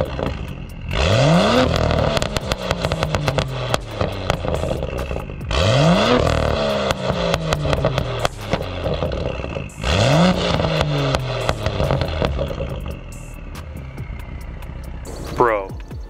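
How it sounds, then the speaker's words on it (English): A loud tuned BMW M2 exhaust with a Bootmod3 Stage 2 tune revs hard three times, each roar rising then falling away with crackles, and voices chatter in between. "The exhaust note is just unreal."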